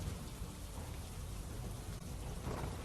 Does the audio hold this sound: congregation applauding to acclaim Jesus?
no